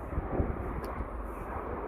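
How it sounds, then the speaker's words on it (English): An airplane landing at Sydney Airport gives a steady, distant roar of engine and rushing air, a low continuous rumble with faint wind noise throughout. "another plane is landing right now, as you all see"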